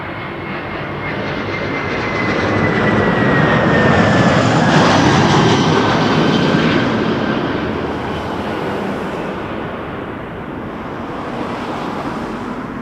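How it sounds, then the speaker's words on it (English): An Air France Airbus A350-900 jet airliner passes over an airport, a broad roaring engine rumble that swells to a peak midway and then slowly fades, with a faint descending whine and no voices. "Air France 356 from Charles de Gaulle, Airbus A350-900."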